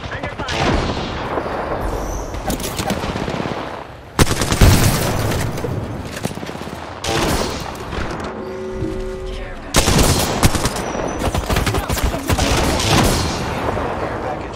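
Bursts of gunfire fill a battle royale video game firefight, loud and continuous with dense rapid shots and booming impacts, pausing briefly near four seconds and again near ten before resuming.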